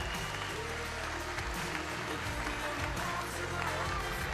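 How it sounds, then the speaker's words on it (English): Crowd applause for two fighters at a 2015 kickboxing event, a continuous roar of clapping and cheering mixed with low hall noise and background music, moderately loud and steady. "give both these fighters a big round of applause"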